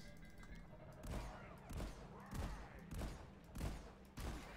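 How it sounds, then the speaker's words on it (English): Shotgun blasts in Deep Rock Galactic, about six loud booming shots fired at an uneven, roughly one-per-second pace, standing out over faint background game noise. "Yeah, it's definitely a shotgun."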